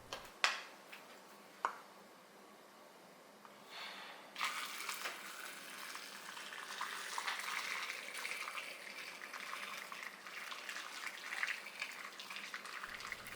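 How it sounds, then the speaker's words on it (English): Hot, just-boiled pickling solution is poured into a jar packed with kale stems and seasonings: a few sharp clinks first, then a steady, soft splashing pour that runs on for several seconds before stopping. "Once the solution is boiling, pour it back into the jar."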